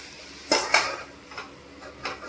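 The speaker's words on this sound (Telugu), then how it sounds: "కలుపుకొని మూత పెట్టేసుకుందాం" Metal clinks and clatters in a kitchen as a lid goes onto a pan of capsicum and tomato curry, a few close, sharp clanks spread over about two seconds.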